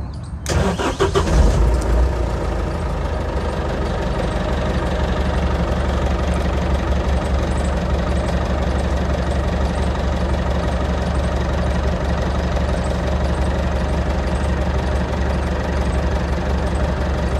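A Tata 407 SFC BS4 diesel pickup truck cranks briefly and fires up, then settles into a steady, loud, close diesel idle with a low knocking rumble that continues unchanged to the end.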